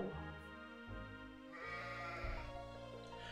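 Sheep bleating in the video game Corruption of Laetitia, a few wavering bleats in quick succession against a steady game music backdrop, close and fairly loud.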